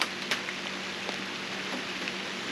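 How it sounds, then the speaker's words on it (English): Steady rain patters down outdoors during a workbench build, a continuous broadband hiss with scattered brighter drop hits, moderately loud and heard alone. "One day build with rain might not have been a smart idea."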